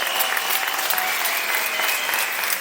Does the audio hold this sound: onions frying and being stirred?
no